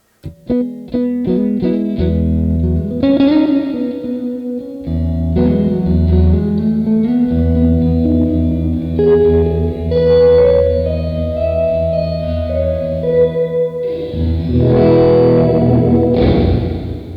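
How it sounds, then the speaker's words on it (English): Electric guitar notes and chords ring out through a large, washy cathedral reverb effect, each phrase lingering and blooming into a spacious tail, loud and alone. "When you play the cathedral, which is actually really nice. I really like that reverb too."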